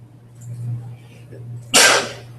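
A single sharp sneeze bursts out loudly near the end, following a quiet stretch with a low steady hum in the background.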